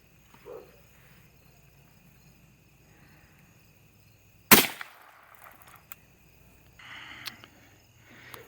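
A single sharp .22 LR Stinger high-velocity round cracks from a rifle outdoors, loud and abrupt, followed by faint scattered clatter and distant rustles over a quiet background hum.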